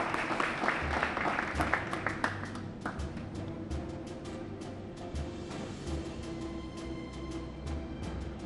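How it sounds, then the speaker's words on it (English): Audience applause fills a community relations awards ceremony honoring a local contributor, a dense burst of clapping that swells loudly at first and then settles into steady, sustained applause with no talk over it. "Your applause of thanks,"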